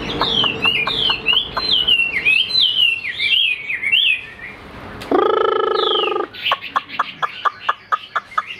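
A trained hwamei songbird sings outdoors in the midday sun, giving bright, rapid, warbling phrases near the microphone, then a brief harsher buzzing call and a run of crisp repeated chirps.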